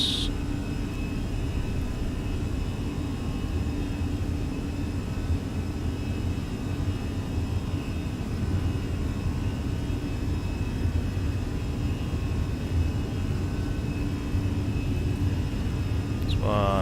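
An Airbus A320 in Microsoft Flight Simulator on its takeoff roll, its jet engines making a steady, loud, broadband roar that holds without a break throughout.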